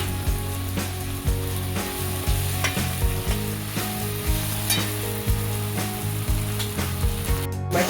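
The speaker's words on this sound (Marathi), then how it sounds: "आपण टमॅटो चांगला परतून घेऊया" Tomatoes sautéing in a pan for chole, a loud close sizzle with rhythmic spatula scrapes and stirs repeating about every half second.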